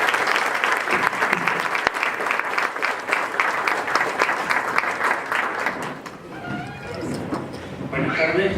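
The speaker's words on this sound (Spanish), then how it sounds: "Un fuerte y caluroso aplauso para él." A sustained burst of audience applause greets José Sánchez Godoy as he takes the stage for a talk on intensive care in Barrial, Gáldar, steady and dense before fading slightly near the end.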